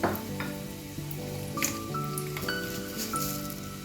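Two medium dry red chillies frying in two tablespoons of hot oil, a close continuous sizzle and crackle with small popping bursts, steady throughout and free of speech.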